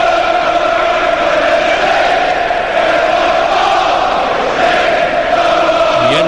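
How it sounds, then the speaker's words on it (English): A football stadium crowd roars loudly and steadily at a Brentford vs Fulham match, a dense, continuous wall of voices with chanting tones swelling throughout. "Listen to that crowd."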